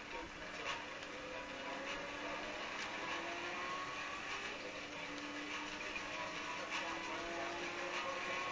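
A car in Saints Row The Third drives steadily with a continuous engine drone and road noise throughout, loud and close, with faint game sounds layered over it.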